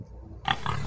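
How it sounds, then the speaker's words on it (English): A single short pig oink, a brief grunting burst about half a second in that follows near-silence, close and moderately loud. "This is a pig."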